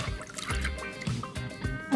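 Water is poured and swirled over chickpeas being washed, making faint, close trickling and dripping sounds in short irregular bursts.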